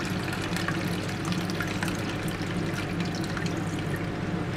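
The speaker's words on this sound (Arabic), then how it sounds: "هنيجي في الصينيه ونحط ميه سخنه" Hot water pours steadily into a baking tray in a kitchen, a continuous splashing stream that stays loud and close throughout with no talking.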